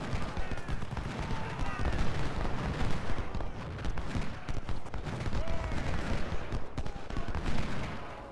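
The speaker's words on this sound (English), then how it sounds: "now that Minty shot all his 6 bullets" Massed musket fire from infantry units in the Civil War strategy game Ultimate General: Civil War at Gettysburg, a dense continuous crackle of overlapping shots and distant booms, with voices talking over it.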